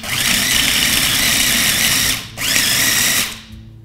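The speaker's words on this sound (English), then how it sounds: "we're gonna pulse it just a couple more times till the crumbs are nice and coarse" A food processor pulses cookie crumbs with melted butter, making two loud, close motor whirs, the first long and the second shorter, each followed by a quick spin-down. No one talks.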